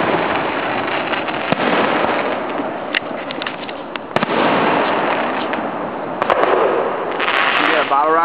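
Fireworks going off at a Grafton display on July 3, 2009: dense, continuous crackling bursts and pops, loud and close, with scattered sharp bangs and some crowd voices mixed in.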